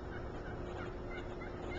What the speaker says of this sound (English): That's some turkeys right there, folks.